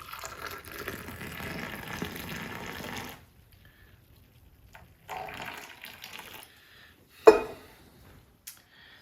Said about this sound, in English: Gotta go for the long pour, get that froth on the top.